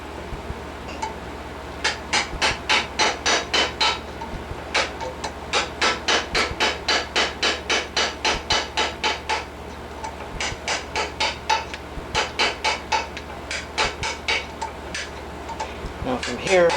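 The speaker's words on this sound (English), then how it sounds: "you can either go lengthwise again with the chisel like this" A steel chisel is struck by a hammer, cutting a channel for fine silver inlay: long runs of rapid, evenly spaced sharp metallic taps, close and loud, broken by a few short pauses.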